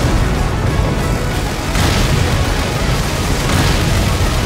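Bomb blasts in the arcade shooter Raiden V: Director's Cut rumble as a dense, continuous roar of explosions with a loud low-end wash and a fresh surge midway, no voices.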